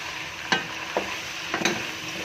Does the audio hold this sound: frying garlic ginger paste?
yes